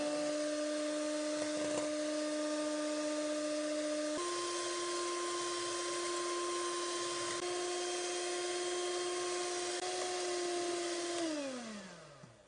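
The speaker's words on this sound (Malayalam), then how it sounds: "ഇവിടെ ഞാൻ മുട്ട ബീറ്റ് ചെയ്തെടുത്തിട്ടുണ്ട്" An electric hand mixer beats eggs for a cake batter, a steady high motor whine that shifts pitch a few times and then winds down at the end, close and with no talking.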